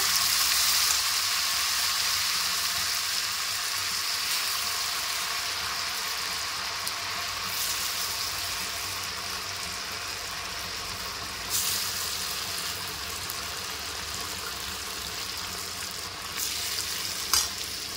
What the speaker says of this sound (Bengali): এবার আমরা গার্লিক কবটাকে ভেজে নেব।